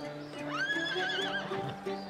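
A horse gives a single loud, close whinny, a rising then wavering neigh lasting under two seconds with nothing else prominent.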